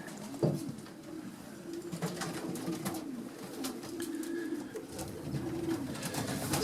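Racing pigeon cocks cooing steadily inside a loft, a low throaty murmur running throughout with a few sharper knocks and scuffles over it; no one speaks.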